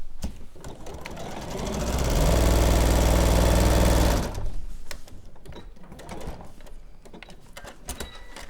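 A sewing machine runs steadily while stitching quilting lines, a close, loud whirring hum that builds for a couple of seconds and then stops, followed by faint handling clatter.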